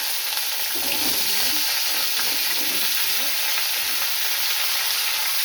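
Cumin seeds, bay leaf and dried red chili tempering in hot oil for dal, a loud continuous close sizzle and crackle with faint stirring, steady from start to finish.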